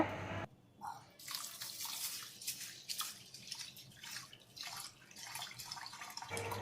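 Water pours steadily into a container of soaking sago and rice, with a continuous splashing gurgle and small bubbling fluctuations, close and fairly loud.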